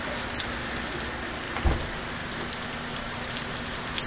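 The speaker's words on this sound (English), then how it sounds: "But right now it's just raining." Steady hurricane rain falls outdoors on a morning with passing traffic, a constant dense hiss with one brief louder thump partway through and no voices.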